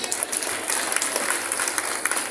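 Audience applause at a company consortium celebration: dense, steady clapping from a crowd that runs unbroken for a couple of seconds, with no voices over it.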